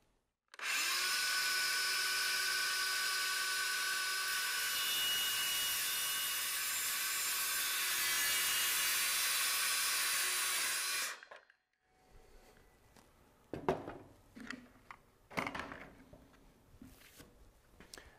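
A power saw cutting through a post holder for a pergola kit, a loud steady high whine lasting about ten seconds before stopping abruptly, followed by scattered clunks and handling knocks.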